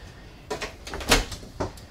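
The mirrored medicine cabinet in the bathroom of a 2025 Vibe 2400RB travel trailer is opened, giving a few quick, close clicks and light knocks, then a final snap, with no talking.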